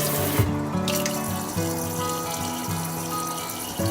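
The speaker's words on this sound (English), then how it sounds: "let's turn on the water and the sprayer" Water from a two-handle Peerless kitchen faucet and its sprayer runs steadily into a sink, a continuous close rushing hiss with a brief change in flow near the start.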